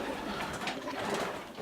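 Pigeons cooing inside a pigeon loft, a soft continuous murmur of overlapping coos close by, with no voices over it.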